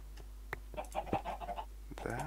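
A chicken in the game Minecraft gives a quick run of soft clucks, with a few clicks before it and a brief higher squawk after, over a low hum.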